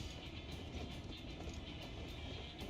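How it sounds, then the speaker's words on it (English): The Dawn Blazer train from Final Fantasy XIV Dawntrail runs steadily, a dense, loud rumble of rolling rail noise that never lets up and has no talking over it. "That is a badass train."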